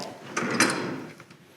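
A drawer in a photographic darkroom cabinet holding enlarger parts slides open or shut in one smooth, soft rumble of about a second, fairly quiet and close, with no talking.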